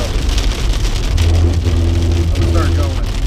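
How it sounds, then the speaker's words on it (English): Heavy storm rain pours down in a dense, steady wash of noise over a low rumbling vehicle drone. "I'm right on the edge of it right now, pouring down rain"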